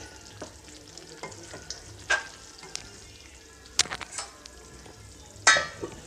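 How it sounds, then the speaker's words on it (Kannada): A paneer and cashew masala gravy simmers quietly in a pan, with a soft bubbling bed broken by three sharp scraping stirs of a spoon against the pan. "ಚೆನ್ನಾಗಿ ಮಿಕ್ಸ್ ಮಾಡಿ ಒಂದೆರಡು ನಿಮಿಷ ಕುದಿಸ್ಕೊಳ್ಳಿ"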